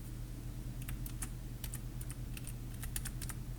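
Quiet typing on a computer keyboard, a string of light irregular keystroke clicks in small bursts over a steady low hum.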